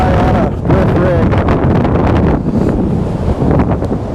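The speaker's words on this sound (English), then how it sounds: "Show you how windy and cold it is." Strong, cold wind roars steadily across the microphone on a fishing boat out on open water, loud and continuous, with someone talking underneath.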